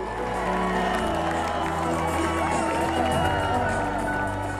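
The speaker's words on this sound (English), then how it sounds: "the Galway crowd had stuck around to cheer her in" A crowd at the Galway finish of the Volvo Ocean Race cheers and whoops as a racing yacht arrives, a steady dense roar of voices over a low continuous rumble.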